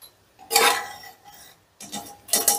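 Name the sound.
opening the lid of a pressure cooker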